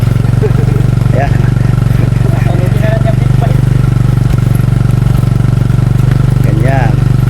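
A big bike motorcycle engine runs beside a lechon roasting spot, a loud continuous low drone holding steady throughout while voices talk over it.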